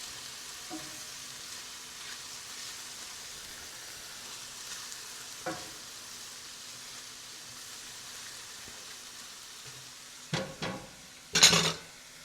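Onions sauté in oil in a pan for beef stroganoff, giving a steady close sizzle that runs throughout, with a few sharp utensil clinks and pan clatters near the end.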